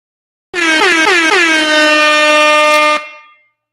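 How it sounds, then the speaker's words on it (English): A loud air horn blares in a few quick stuttering bursts that merge into one long sustained blast, then cuts off. "Come on with the air horn."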